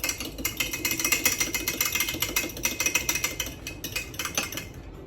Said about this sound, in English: 2 eggs, mix up my wet real quick.